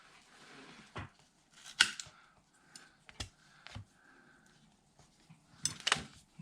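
A bass guitar strap, a belt-like band, is cut with a few sharp, isolated snips spread across quiet pauses, heard up close with no speech.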